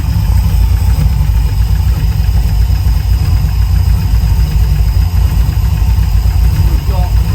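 A carbureted LS V8 swapped into a second-generation Firebird idles as it warms up, giving a loud, steady low rumble throughout.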